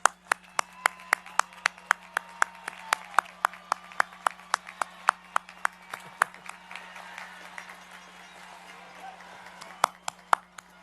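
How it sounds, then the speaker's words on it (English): At a community college commencement ceremony, sharp, separate hand claps ring out in a fairly steady rhythm over a low hum. It sounds like a few nearby people clapping rather than a full crowd, and the claps thin out toward the end. "Applaud them for the unwavering support."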